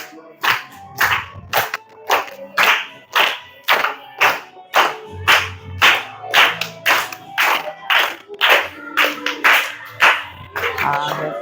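Children clap their hands in a steady rhythm, about two claps per second, loud and close, with voices chanting along between the claps.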